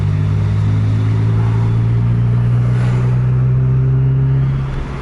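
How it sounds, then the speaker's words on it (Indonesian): A bus fitted with a wolf-sound exhaust (knalpot serigala) drives close by, its deep, loud droning note holding steady for several seconds before easing slightly at the end. "Knalpot serigalanya udah keluar."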